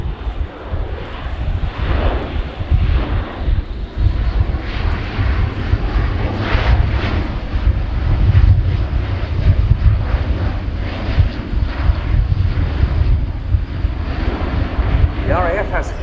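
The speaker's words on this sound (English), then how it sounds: "as this slow speed fly past demonstrates, the aircraft can also fly slowly" An Airbus A400M Atlas military transport aircraft drones steadily overhead in a slow, sustained flying-display pass at an air show, its propeller engine rumble loud and continuous throughout.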